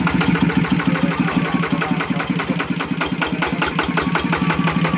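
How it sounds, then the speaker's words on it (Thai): A ZT180 engine runs close and loud with a steady, fast chugging beat that holds even throughout, with no voices over it. "เดี๋ยวเราจะดับแล้วให้พ่อน้องชิโรติดเครื่องดูนะครับว่ามันมันหนักขนาดไหนนะครับ"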